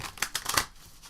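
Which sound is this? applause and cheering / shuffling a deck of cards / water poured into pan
shuffling a deck of cards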